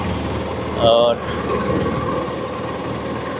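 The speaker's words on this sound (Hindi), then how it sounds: "Engine is up and running." A petrol-fuelled boat engine runs on the Indus River with a steady low drone throughout. A brief tonal whine rises above it, and someone speaks over the engine.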